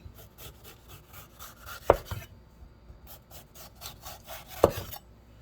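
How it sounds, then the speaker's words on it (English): A knife works around a bell pepper, peeling the flesh away from the core in a series of short scraping and cutting strokes, with two sharper taps against a board, close and fairly quiet, without talk. "you just start here and kind of go around and peel it"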